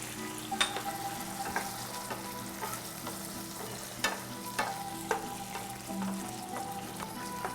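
Tomato sauce sizzles in a pan with garlic and onion while veal is cooked, a low steady bubbling broken by several sharp spoon or pan clicks, with no voices.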